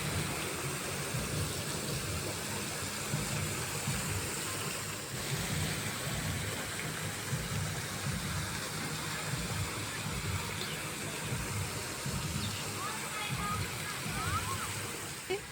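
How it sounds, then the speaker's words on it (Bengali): A park water fountain splashes in a steady, loud wash of falling water that runs without a break throughout. "খুব সুন্দর একটা ঝর্ণা"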